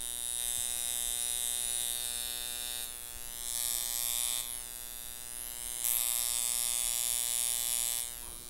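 A Nu Derma high frequency wand used on the scalp gives off a steady electric buzz with a sharp hissing edge that swells and dips a few times, close and continuous without talk.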